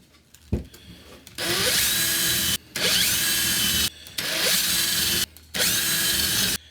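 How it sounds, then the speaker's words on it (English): Power drill boring pilot holes through wood into a piece of sacrificial lumber with a pilot hole bit, four loud whirring bursts of about a second each separated by short pauses, close up with no talk. "grab my pilot hole bit, and I'm going to drill each one"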